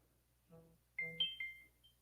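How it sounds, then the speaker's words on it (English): A few short electronic beeps and chirps from a phone, quiet and close, sounding in a brief uneven burst against near silence. "And of course, my phone's already beeping."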